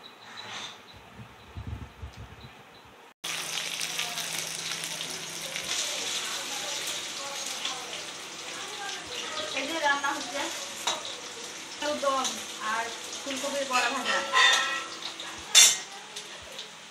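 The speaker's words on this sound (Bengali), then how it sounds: "আলু দম হচ্ছে আর হচ্ছে ফুলকপি বড়ার পকোড়া" Cauliflower pakoras and potatoes for aloo dum frying in a pan in a home kitchen, a continuous close sizzle broken by stirring scrapes and clinks of utensils against the pan.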